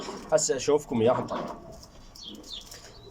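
Imported Pakistani pigeons in a home loft give soft, low coos in the background while someone talks over them, the calls continuing faintly after his voice fades.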